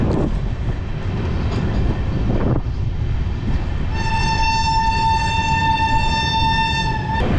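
A Ganadevata Express with LHB coaches runs past with loud, steady rolling rumble throughout, and partway in a long, sustained horn blast sounds clearly over the running noise.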